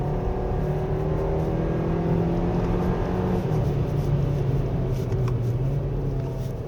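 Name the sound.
Hyundai Kona 1.6 turbo engine revving at high rpm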